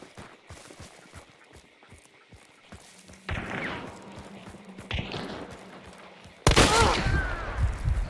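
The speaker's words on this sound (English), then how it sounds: "That was a very fast shot from him, dude." Gunfire in Hunt: Showdown: a quiet run of footsteps and thuds gives way to a louder burst near the middle, then a sharp, loud shot with a ringing tail near the end.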